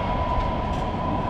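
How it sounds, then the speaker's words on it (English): A tram rumbles past on a downtown Stockholm city street, a steady close rolling drone of rail wheels with a faint high whine throughout. "Another tram."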